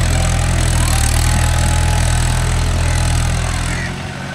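A John Deere 5105 tractor engine runs with a loud, steady diesel drone in second gear while pulling a load in a field, close by and constant, easing slightly at the very end.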